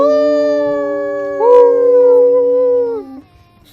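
People howl at the moon like wolves, their voices imitating a wolf: one sustained, close, loud tonal howl that shifts pitch midway, then fades out over about three seconds.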